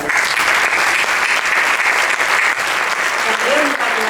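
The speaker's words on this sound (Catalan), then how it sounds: "I un aplaudiment també" Audience at a short film festival closing gala in Pineda de Mar giving loud, dense, sustained applause that fills the whole stretch, with voices faintly mixed in.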